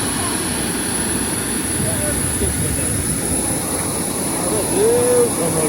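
A steady jet engine roar fills the background at an airport, broad and moderately loud, with a faint whine of aircraft noise and distant activity.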